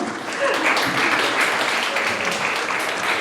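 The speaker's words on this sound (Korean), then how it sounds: "박수 한 번 더 쳐주시고요" An audience claps warmly at a literary concert featuring poet Yang Kwang-mo, with sustained close applause filling the room for about three seconds.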